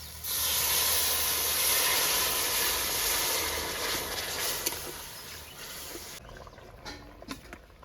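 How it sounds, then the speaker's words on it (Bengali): Reserved dal-boiling water is poured into hot fried masala in a pan, setting off a loud, close sizzling hiss that swells, then slowly subsides into softer spitting and bubbling pops. "এবার আমি যে ডাল সিদ্ধর জলটা তুলে রেখেছিলাম এই জলটা দিয়ে দিচ্ছি।"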